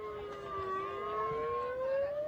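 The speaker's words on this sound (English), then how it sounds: "have that same megaphone which has that same siren on it" A megaphone siren wails at a protest, a steady rising electronic tone that is loud and continuous and carries over faint crowd and street noise.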